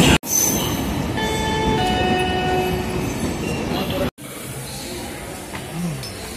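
The Taj Express train arrives at a station, a loud, close rumble of rail cars with a sustained horn-like tone, cut off and followed by quieter platform noise with scattered sounds.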